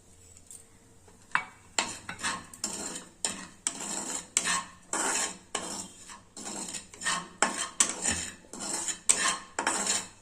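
Ridge gourd peel roasting with salt and chili in a pan, stirred with a metal utensil in a steady series of scraping, clattering strokes, close and fairly loud, about a dozen strokes in rhythm with no talking.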